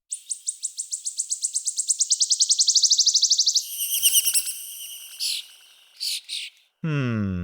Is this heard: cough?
no